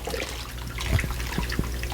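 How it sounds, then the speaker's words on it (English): Water trickles steadily into a guppy pond, a soft continuous flow with faint splashy ticks, close and fairly quiet. "the water is filling back up"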